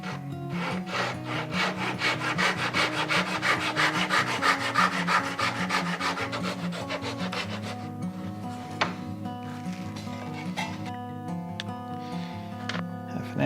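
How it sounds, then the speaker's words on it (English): A hand saw cuts short wooden dowel pieces held in a cutting jig, making rapid, rhythmic rasping strokes up close that slow and fade in the second half, with no talking. "It's just a cutting jig for my saw here. And I need very short pieces here"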